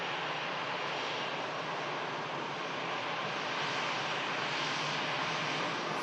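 EasyJet airliner arriving, a steady loud roar of jet engine noise sustained throughout without pause.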